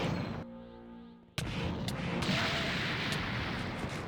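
An explosion in the Minecraft mod Dragon Block C, an abrupt loud burst that cuts off a fading tone, followed by sustained rumbling blast noise with a few sharp cracking impacts.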